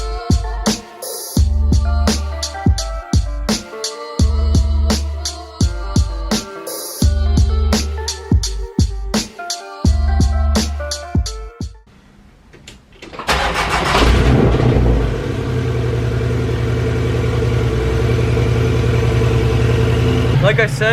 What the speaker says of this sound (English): So I figured we'll do a quick cold start up on this.